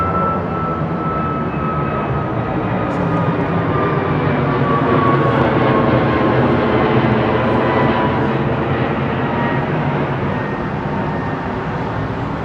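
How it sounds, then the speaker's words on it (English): A jet takes off from Heathrow runway 09R, its CFM56 engines roaring in a loud, sustained wall of noise with a thin high whine on top, steady across the whole stretch and without voices. "Crazy amount of noise coming out of them CFM56s."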